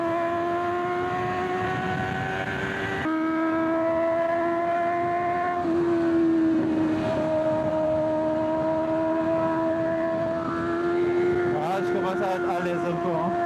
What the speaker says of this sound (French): Là, je sens que la moto va y aller.